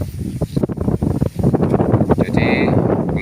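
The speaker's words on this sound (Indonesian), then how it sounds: "Jadi pergerakannya angin sekarang merambat ke utara." Wind gusting across a harvested rice paddy where straw is being burned, buffeting the microphone in uneven rushes and thumps, loud and close, with faint tones near the end.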